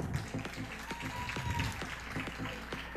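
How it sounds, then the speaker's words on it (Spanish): A pageant audience claps to welcome three contestants in a classic category, steady applause that stays moderate and slightly distant throughout. "Un aplauso para recibirlas"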